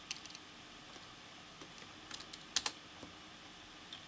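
Light, sparse clicks of typing on a computer keyboard, quiet and close, with a few sharper keystrokes standing out against a faint room hiss.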